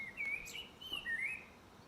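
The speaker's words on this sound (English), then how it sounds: "Nice to hear the birds out there." Birds chirp outside in a few faint, quick high tweets spaced apart, heard alone against a quiet room background.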